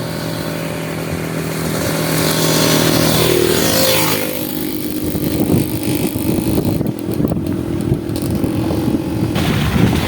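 A motorcycle passes along a road at a mining site, its engine note rising as it nears and then fading into a rough, uneven drone, with no talk over it.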